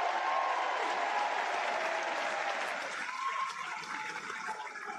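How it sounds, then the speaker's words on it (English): Applause from an audience welcoming mayors at a public event. It is steady, dense and sustained, and it thins slightly toward the end. No voices. "Give those gentlemen a big round of applause."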